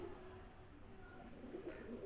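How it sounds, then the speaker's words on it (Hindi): Soft pigeon coos rise faintly over a steady low background hum, with a brief higher chirp near the end. "इमरान भाई यह कबूतर का शौक करना माशाल्लाह"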